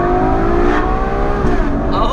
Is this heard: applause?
no